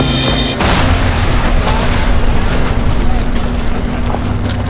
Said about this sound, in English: an explosion rips through the remains of the plane.